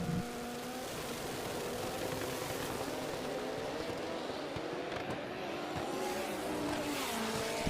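A Mustang Cobra and a Mitsubishi Evo launch side by side on a drag strip at a race event, their engines rising together in a loud, sustained roar heard from a distance with crowd ambience.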